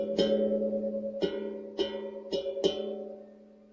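Five strikes on the large center note of a metal hang drum, each a bright attack followed by a ringing sustained tone at the same pitch, evenly sounded and slowly fading.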